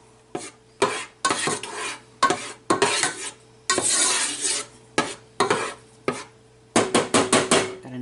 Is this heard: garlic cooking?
yes